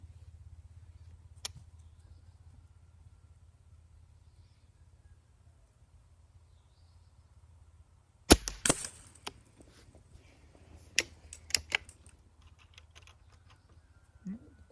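A few sharp gunshot cracks from a custom varmint rifle ring out after a long quiet stretch, followed by scattered smaller clicks and bangs at irregular intervals.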